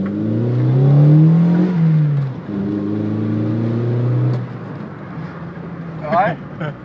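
A car engine with a repaired exhaust revs up and settles, its loud droning tone rising and falling over several seconds, while people talk near it.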